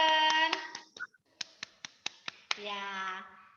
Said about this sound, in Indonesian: Tepuk tangan untuk Aden